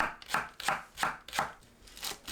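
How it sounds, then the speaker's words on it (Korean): Green onions sliced thinly into rounds with a knife, a series of about six crisp chopping strokes in a steady rhythm, close and clear with nothing else around. "파를 둥글고 얇게 썰어주세요."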